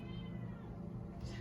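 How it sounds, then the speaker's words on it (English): A pet cat meows close by indoors, one drawn-out, moderately loud call set against a steady low background hum. "Sorry, that's my cat."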